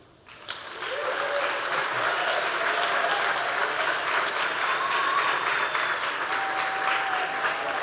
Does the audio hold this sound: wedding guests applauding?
yes